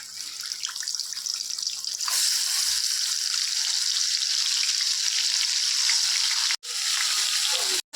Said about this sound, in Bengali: কই মাছ ধুয়ে এনে নুন হলুদ মাখিয়ে নিয়েছি, এবার কড়াই দিয়ে হালকা করে ভেজে নেব।